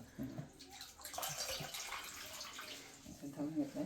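Water runs and splashes as food is washed by hand in a kitchen, with a steady broadband rush and a few sloshing bursts throughout, mixed with faint background voices.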